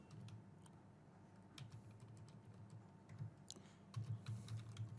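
Someone types test card details on a computer keyboard, a quiet, close, irregular run of key clicks with a few louder taps near the end.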